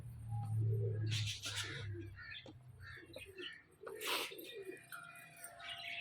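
Pigeons coo softly and repeatedly near a pen while the flock pecks at grain, with a few brief chirps and low rustles between the calls.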